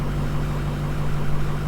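A Ford F250 with a rewired 6.0 Powerstroke diesel engine idles, giving a steady, close low rumble with an even, unbroken drone and no voices.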